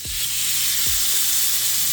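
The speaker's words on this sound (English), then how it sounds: "Now that it's nice and hot, we're gonna slip this into the frying pan" Pieces of oxtail sizzle in a hot frying pan, a loud, steady close-up hiss with a couple of brief low thumps as the meat settles.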